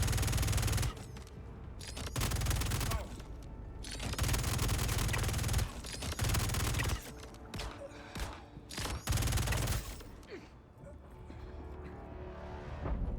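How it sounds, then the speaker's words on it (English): An FS99 light machine gun firing in Star Citizen 4.0 contested zones, with several loud, close bursts of rapid automatic fire broken by brief gaps, fading into quieter combat noise toward the end. "Here was my first bit of combat with this FS99 LMG"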